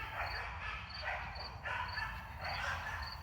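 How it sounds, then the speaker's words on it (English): Two puppies playing roughly in the distance, with repeated faint yips and small barks recurring in short bursts over steady background noise. "Sounds like I got two puppies that are really playing pretty hard over there."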